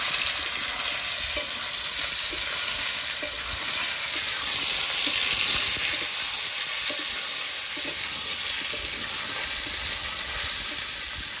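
Boiled taro and potato fry in a pan, giving a continuous loud sizzle with light scraping and stirring clatter, heard up close.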